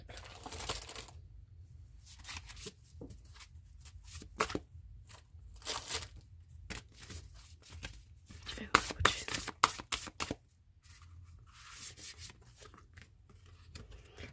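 A deck of oracle cards is shuffled up close, giving a run of soft rubbing, riffling bursts with quieter pauses between them, while a voice talks softly at times.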